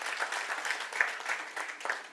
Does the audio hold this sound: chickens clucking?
no